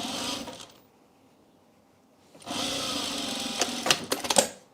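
A sewing machine stitches a garment seam, a steady mechanical whir running briefly, pausing into near silence, then resuming with louder clattering bursts near the end.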